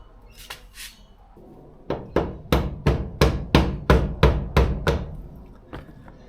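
Door trim is fitted and clipped onto a Mini Clubman door, heard as a rapid series of about a dozen sharp, close thumps and knocks in a steady rhythm, preceded by a couple of faint rustles.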